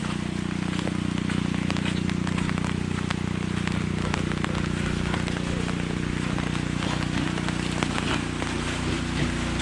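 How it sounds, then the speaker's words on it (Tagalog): Steady rain falls outdoors in rural Occidental Mindoro, a continuous hiss with scattered crackling drops throughout, with a persistent low hum underneath and no clear talk. "Ulan na naman."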